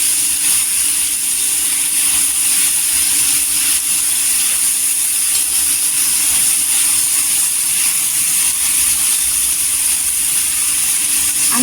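Onion fries on a slow gas flame for chutney, a steady, even sizzle and hiss that runs unbroken and fairly loud throughout.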